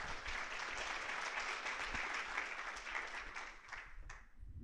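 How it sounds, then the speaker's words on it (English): An audience at a global summit applauds a speaker taking the stage, a steady, distant-sounding wash of clapping that carries on for several seconds at even volume. "Give him a round of applause."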